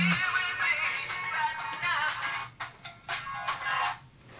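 A phone's ringtone plays a bright, melodic electronic tune in repeating phrases, fairly close and steady, with brief dips near the end and no talking.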